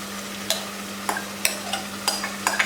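Papaya being stirred into a vinegar pickle gravy in a pan, a series of sharp spoon scrapes and clacks every half second or so over a low steady hum, with no voices.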